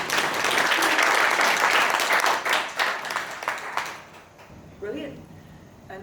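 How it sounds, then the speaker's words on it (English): Audience applause at a healing event, dense clapping from a crowd for about four seconds before it thins out, followed by a voice speaking over the tail end. "give them a round of applause"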